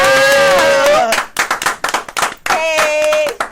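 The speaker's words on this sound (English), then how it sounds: "Them claps was a little louder now." Studio guests clapping in a lively burst, sharp uneven hand claps mixed with whoops and loud voices, close and energetic throughout.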